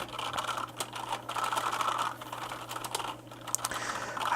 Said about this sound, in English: I hope you guys can actually hear the sounds I'm making on the keyboard.